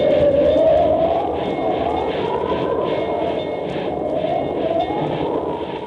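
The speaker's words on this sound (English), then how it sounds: "advancing by train toward the perilous pass at Medicine Bow" A radio drama sound effect of a train advancing toward a mountain pass in a coming blizzard, a steady, loud rumbling chug with rhythmic pulses and a rising whistle-like tone at the start.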